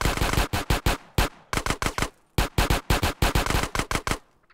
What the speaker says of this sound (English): Nothing better than practicing my shooting.